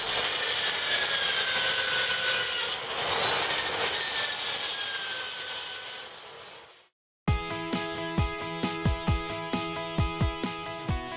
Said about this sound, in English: I will still take the time to grind the hub down with a soft brass brush to remove the fine rust